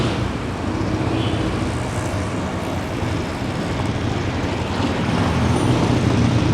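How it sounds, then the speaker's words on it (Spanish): Car traffic streaming along wide Calle Infanta in Havana, Cuba, a continuous, fairly loud roadway rumble with engines swelling and passing, and no talking. "transitan muchos carros"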